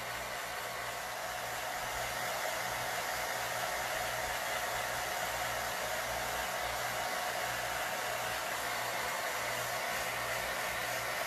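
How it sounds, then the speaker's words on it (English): A hair dryer blows air with little or no heat to dry a craft transfer, producing a continuous, fairly close whooshing hum that stays steady with no voices. "I'm drying with um, little to no heat, just with air."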